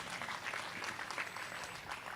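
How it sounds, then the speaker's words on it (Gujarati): A crowd at a Bhagavat saptah dayro gathering in a residential society claps steadily, an even patter of many hands that sounds faint and distant, without any talking. "એમને પણ એકવાર જોરદાર તાળીથી વધાવો ભાઈ."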